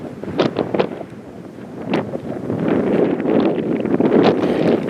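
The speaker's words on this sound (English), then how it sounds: "you also got wind, about 15-20 miles an hour" Wind gusting at about 15-20 miles an hour in the San Gabriel mountains, buffeting the microphone with a loud, continuous rumbling roar that swells and lulls, with brief rustling bursts.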